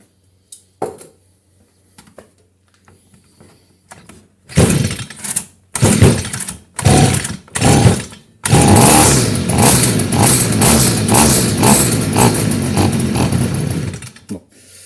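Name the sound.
two-stroke garden machine engine being restarted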